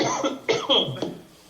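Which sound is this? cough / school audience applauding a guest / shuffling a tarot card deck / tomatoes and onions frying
cough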